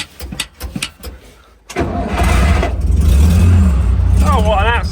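Mercedes 6x6 recovery truck's engine cranks and catches after a short pause, then settles into a loud, steady low rumble close by, with a brief whine near the end.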